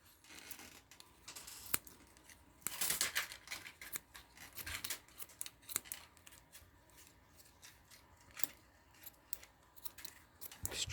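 Scissors snip and trim material for a small homemade potato cannon, a run of crisp, close cutting sounds in irregular bursts, fairly quiet with no talking.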